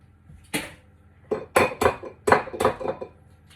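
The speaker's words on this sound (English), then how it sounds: "I'm just going to crack the egg into the bowl" Eggs are cracked into a bowl while making a sponge cake, a series of sharp clinks and taps of shell against the bowl rim in quick bursts, close and fairly clear.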